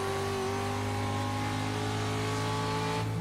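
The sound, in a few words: racing truck accelerating out of a corner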